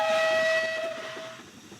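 Great Western 14xx steam locomotive sounds its two-tone whistle in one clear, close blast. The blast holds steady, then fades over under two seconds.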